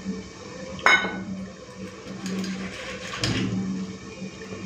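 Raw tamarind water is strained in a kitchen, with a sharp clink of a utensil against a vessel, soft liquid trickling and a later scrape, all quiet and close.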